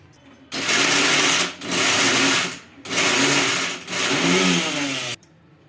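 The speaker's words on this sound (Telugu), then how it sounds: "అన్నీ ఒకటేసారి గ్రైండ్ కావు కాబట్టి కొద్ది కొద్దిగా పలిచిచ్చుకుంటూ గ్రైండ్ చేసుకోవాలండి" A kitchen mixer grinder whirs loudly and close up as it grinds bitter gourd spice powder, running in four pulsed bursts of about a second each with brief pauses between, and no voices.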